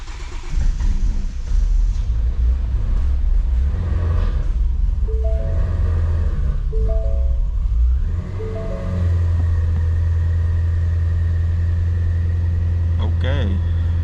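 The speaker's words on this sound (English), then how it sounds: "Gen 5 Whipple Supercharger installed. First start." A Shelby GT350 fitted with a Gen 5 Whipple supercharger and upgraded oil pump gear cranks and fires on its first start, then settles into a loud, steady low rumble with a faint rising whine and some overlapping voices.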